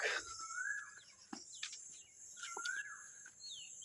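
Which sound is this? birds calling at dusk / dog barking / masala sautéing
birds calling at dusk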